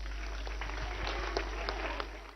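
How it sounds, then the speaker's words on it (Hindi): An audience of children and adults at an Acharyakulam gathering in Haridwar claps together, a dense sustained patter heard at a distance over a low steady hum, ending abruptly. "चलो एक बार सबके लिए तालियां बजा दो।"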